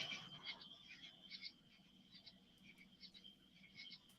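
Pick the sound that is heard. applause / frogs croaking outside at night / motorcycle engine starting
frogs croaking outside at night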